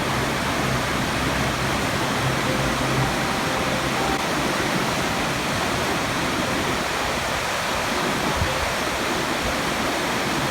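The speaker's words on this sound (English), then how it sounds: "Well, the river's a little bit high. Got a bit of water going under here." A high Fraser River rushes under a bridge in June, a loud, unbroken roar of fast water that fills the whole stretch with no speech over it.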